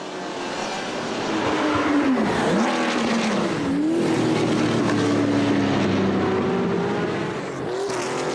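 A Porsche 917K race car roars past with a rising and falling engine whine, loud and close, its pitch sweeping as it goes by.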